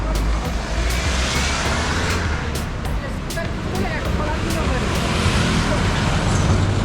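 Dense city traffic in Morocco: a steady, loud roar of cars, trucks and buses that never lets up, with engine drone and passing vehicles blending into one continuous wash.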